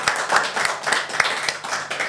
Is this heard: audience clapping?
yes